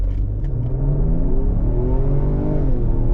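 A 2023 Lincoln Aviator Reserve accelerates hard, its engine droning loud and close with rising gear tones and a deep rumble, no voices over it.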